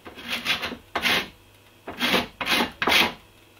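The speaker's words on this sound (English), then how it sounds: "I have my cheese grater and now I'm going to zest these 5 limes" Limes rasped against a handheld cheese grater for zest: five separate bursts of close, crisp scraping strokes with short pauses between, fairly loud and alone.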